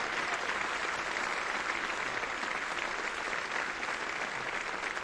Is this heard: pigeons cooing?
no